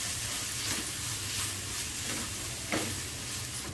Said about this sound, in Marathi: आपलं तेल गरम झालेलं आहे, त्यामध्ये आपण हा मिरची, आलं, लसूण याचा ठेचा घालूया